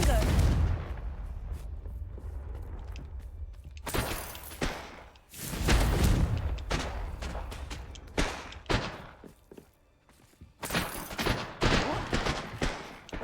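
Confringo fire spells from Hogwarts Legacy blast in a string of sharp, loud bursts separated by short gaps, each hit crackling out and fading before the next impact.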